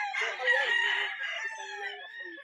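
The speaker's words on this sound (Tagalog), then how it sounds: "Ayan yung mga early bird ni Sir GC sa Livestrong Game Farm" A gamefowl rooster on a game farm gives one full crow, loud and fairly close, rising then trailing off with some faint clucking, no talk.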